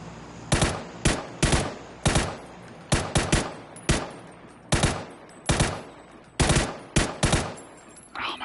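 Full-auto gunfire in the video game PUBG, a dozen sharp, loud bursts spaced about half a second to a second apart, each snapping in hard and tailing off, with no talk over them.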